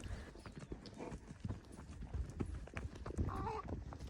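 Horse hooves clip-clop at a steady walking pace, close by and fairly quiet, with faint background noise.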